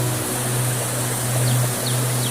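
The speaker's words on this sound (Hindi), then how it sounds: "क्या वाटरफॉल है। पानी गिरते हुए क्या मज़ा आता है देखने में।" Water pours over Nakiya waterfall near Balco in Chhattisgarh, a steady, even rush of broadband noise that holds without a break for the whole stretch, with no voices.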